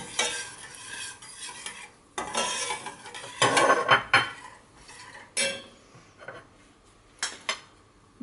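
A spoon stirs milk with chia seeds cooking in a pot, giving repeated scraping and swishing strokes with faint bubbling and occasional light clinks, close and alone.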